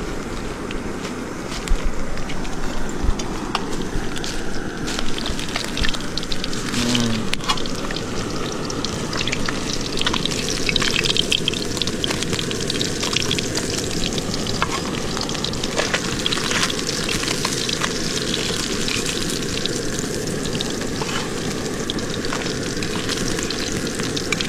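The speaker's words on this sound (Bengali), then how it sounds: "এখন মাছগুলো তুলে নেবো, ভাজা হয়ে গেছে।" Fish frying in oil outdoors on a remote Andaman island, a loud, steady, dense sizzle that runs unbroken for the whole stretch, with scattered crackles and pops and no voices.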